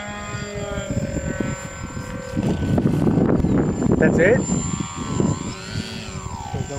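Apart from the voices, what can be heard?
RC model airplane propeller motor flying in wind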